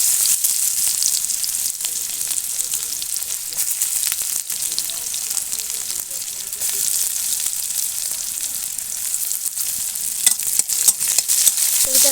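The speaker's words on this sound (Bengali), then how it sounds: "এটাকে আমি লাল লাল করে ভেজে নেব।" Chopped onions sizzling and frying in hot oil with whole dried red chillies and bay leaves, a steady close crackle that runs unbroken without any voices.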